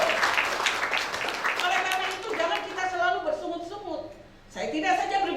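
A church congregation claps during a Sunday service, bright scattered applause that gives way to a voice speaking over the hall.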